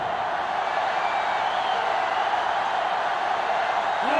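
Steady stadium crowd roar from a sellout college football game in NCAA Football 07, a continuous broad wash of noise holding level throughout with no voices on top.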